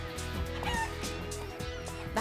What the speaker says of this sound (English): these feathered friends are called geese